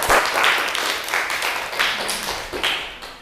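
Group of people clapping in a classroom lesson, a dense burst of applause made of many quick hand claps, fairly near and loud, fading slightly toward the end.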